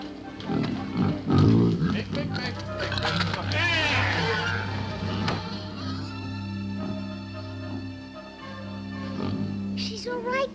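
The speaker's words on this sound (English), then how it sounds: "She's an awful smart pig." A cartoon pig gives a burst of snorting oinks and grunts in the first few seconds, close and loud, followed by soft music carrying on in the background.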